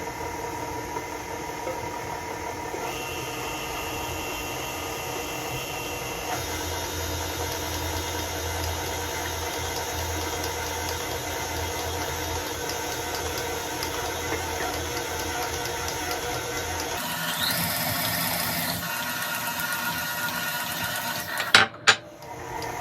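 An electric mixer runs steadily as it creams butter for a butter pecan pound cake, a constant motor whir with slight shifts in pitch, ending in a few sharp clatters near the close, with no talking.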